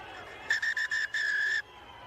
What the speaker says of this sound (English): So there it is, the half-time whistle.